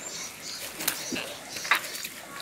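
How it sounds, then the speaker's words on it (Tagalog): Faint bird calls and chirps scattered through steady outdoor ambience, with a soft flutter-like sound partway through. "Na ririnig niyo po ba yung mga huni ng ibon?"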